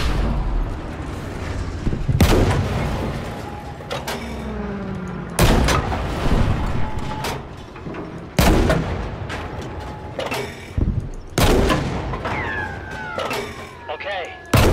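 A tank cannon in Battlefield V fires loud, booming shots every few seconds, each with a long ringing decay, amid battlefield gunfire and a wailing siren-like tone.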